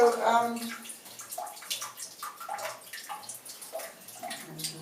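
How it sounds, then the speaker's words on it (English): Tap water runs out of a clysmatic bowel irrigation system, a continuous splashing and gurgling flow with uneven spatters that starts loud and then settles into a softer, steady trickle. "I'm just going to let that run out because it's tap water"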